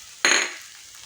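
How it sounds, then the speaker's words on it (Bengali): Ginger-garlic paste hits a pan with onions and bursts into a sudden loud sizzle that fades within half a second, close and alone. "এভাবে আমি কিছুক্ষণ আদা রসুন পেস্টটাকে পেঁয়াজের সঙ্গে ভাজবো।"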